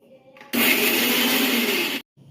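A mixer grinder whirs loudly and steadily for about one and a half seconds, blending green chillies, garlic, cumin, salt and coriander, then cuts off abruptly, with quieter kitchen sounds before and after.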